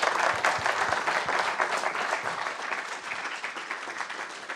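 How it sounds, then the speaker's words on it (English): Audience at a BSides Newcastle security conference main stage gives sustained applause, a dense wash of clapping at moderate distance that slowly tapers over a few seconds. "Another round of applause for Callum, because he was amazing."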